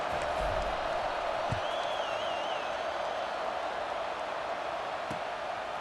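Steady stadium crowd roar from a college football video game, a continuous broad wash of distant fans filling the whole stretch at an even level, with a faint whistle-like tone rising briefly in the middle.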